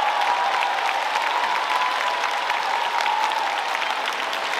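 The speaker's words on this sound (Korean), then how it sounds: "뜨거운 박수 부탁드리겠습니다" An audience at the Wonju Dancing Carnival applauds an encore dance performance, a steady even wash of clapping throughout with a faint hum beneath.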